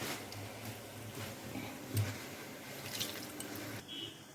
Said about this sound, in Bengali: এক কাপ মতন জল দিয়েছি মাছটা যাতে ডুবে থাকে